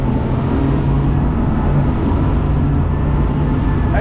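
A 34-foot Foilcat boat runs on twin inline-six outboard motors, giving a loud, steady, rumbling growl that fills the whole stretch with no talking.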